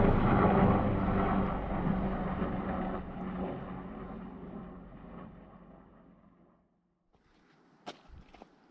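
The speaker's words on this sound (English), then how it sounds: "Low flying helicopter right through" A low-flying helicopter passes through a glen in the Scottish Highlands, a loud broadband rumble that fades steadily over several seconds, followed by near silence and a couple of brief close knocks.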